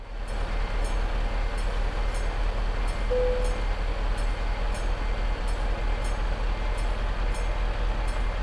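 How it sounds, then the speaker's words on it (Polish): A freight train of about 30 wagons rolls past in the game Euro Truck Simulator 2, giving a loud, continuous low rumble with a steady, regular clicking of wheels on the rails throughout. "W promocie to masz towarowy pociąg, co ma 30 wagonów."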